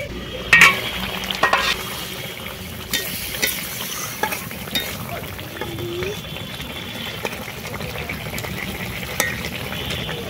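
Cut brinjals stirred and fried in a pan in a home kitchen, a continuous close sizzle with frequent clinks and scrapes of a spatula against the metal, and occasional voices faintly underneath.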